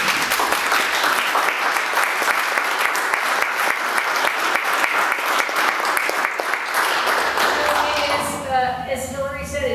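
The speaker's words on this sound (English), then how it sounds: "I really want to applaud you for the work that you do" An audience stands and applauds health workers at an event for a homeless veterans program, dense steady clapping filling the room for about eight seconds before thinning out as a voice begins to speak.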